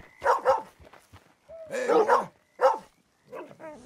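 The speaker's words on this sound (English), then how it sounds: "You're a good dog." A small dog gives several short, high yips and barks in quick bursts, close by, with whimpering tones between them and a voice speaking briefly at the start.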